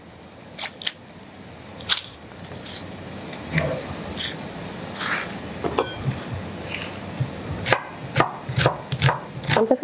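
A knife slicing a fresh onion thinly on a board, sharp crisp cuts coming irregularly at first, then faster and closer together, close by and fairly quiet.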